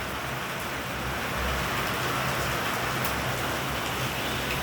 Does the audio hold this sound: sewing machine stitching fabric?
no